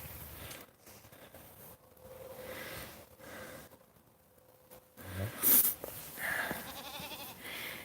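A goat on a farm gives faint, scattered bleats and snorts nearby, with brief breathy sounds and a louder burst near the end against quiet background noise.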